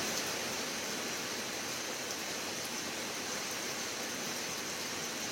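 Steady, heavy rain falls without pause, a dense even hiss that stays constant throughout with no voices.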